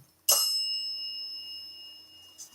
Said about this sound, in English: They're ringing the bell.